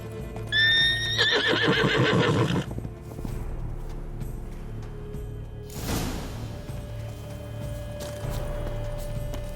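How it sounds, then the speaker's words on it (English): A horse in the video game The Witcher 3: Blood and Wine gives a loud, close whinny that rises and shakes, then snorts and shifts with hoof clatter and rustling afterward. "Should like that like any other damn horse."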